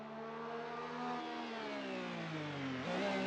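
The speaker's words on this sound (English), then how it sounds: "the engine roaring in fury" A Toyota race car in Minolta livery roars down a straight under hard acceleration, its engine note loud, close and steady, rising in pitch, dipping briefly, then climbing again.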